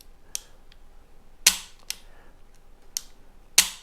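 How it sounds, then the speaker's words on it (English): Dry-fire clicks from the double action trigger of a Sar K2 45 pistol, a few sharp metallic snaps spaced unevenly with faint lighter ticks between them, close and quiet. "there is your double action pull on this pistol"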